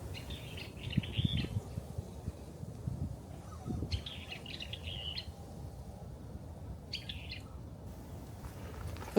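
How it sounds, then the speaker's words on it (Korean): In a snowy winter park in Seoul where magpies feed on tree berries, birds give three separate bursts of high, rapid chirping over a soft, low, rustling background, with no speech. "새 소리가 참 듣기 좋네요."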